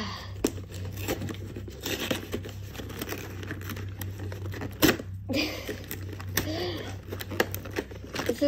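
Scissors cut through Pokémon card pack packaging, giving irregular crinkling, snipping and tearing sounds close by, with a faint steady hum in the background.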